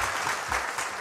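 Audience applause on a Kurdish quiz show, a short continuous patter of many hands clapping, close and steady.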